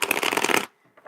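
A quick riffle of tarot cards being shuffled, a brief rapid flutter that stops abruptly, followed by a faint soft rustle.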